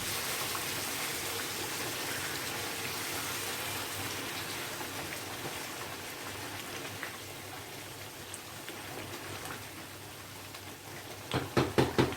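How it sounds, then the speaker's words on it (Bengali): Hot water is poured into a pan of frying potato curry masala, making a continuous rushing, rain-like pour that ends in a few louder splashing bursts. "এবারে আমি এর মধ্যে একটু গরম জল দিয়ে দেবো"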